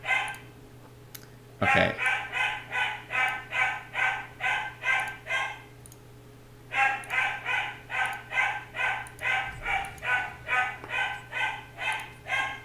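A dog barks in rapid rhythmic runs of a dozen or so barks, loud and close, with a pause between the two bursts and a brief spoken word near the start.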